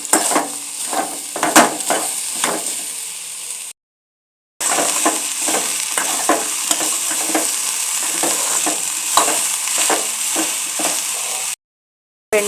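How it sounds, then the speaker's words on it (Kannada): Okra fries in oil in a pan with a steady close sizzle, punctuated by repeated scraping strokes of a spatula, in two stretches separated by short silent gaps. "ಬೆಂಡೆಕಾಯಿ ಸ್ವಲ್ಪ ಫ್ರೈ ಮಾಡ್ಕೊಳ್ಳೋಣ"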